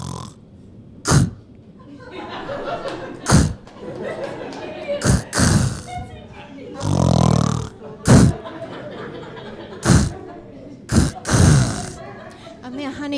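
A stand-up comedian imitates a snore like a stalled engine with her voice, sputtering gasping snorts and choking bursts in an irregular rhythm, close and loud, with audience murmurs between them.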